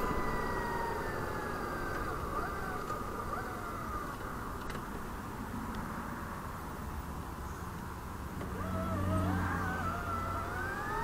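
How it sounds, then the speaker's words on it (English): An electric Brammo motorcycle accelerates hard with the clutch slipping a little, its motor whine sweeping upward in pitch over road and wind noise, swelling again near the end. "Sound like the clutch slipped a little bit there."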